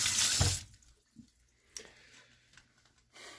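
Kitchen tap water runs loudly into a sink for a brief burst while buttery hands are washed, then cuts off, leaving faint drips and small clatters in a quiet room.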